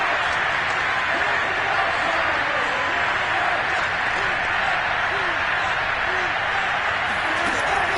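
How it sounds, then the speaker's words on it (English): Stadium crowd in an American football video game, a steady dense roar and cheer building for a big third down, loud and continuous beneath a commentator's voice. "the crowd getting into it as we come up on a big 3rd down"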